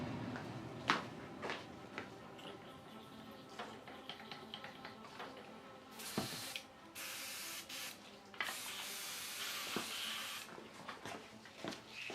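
Aerosol satin finish coat sprayed onto a painted figure in short hissing bursts, close and moderately loud, with handling taps and rustles between the sprays.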